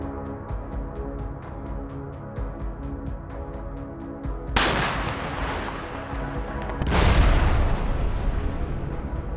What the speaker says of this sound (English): a series of massive explosions rocked the city